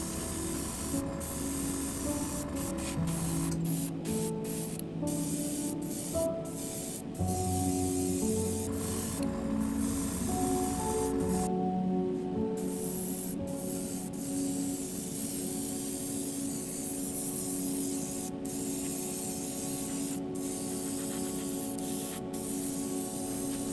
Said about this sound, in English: It does spray quite well, but in this case I don't think my mix was quite right.